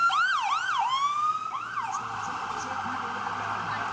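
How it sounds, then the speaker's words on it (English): A wailing ambulance siren sweeps up and down in pitch, loud and steady, with faint crowd noise underneath at a protest in Ferguson. "can make room for the ambulance."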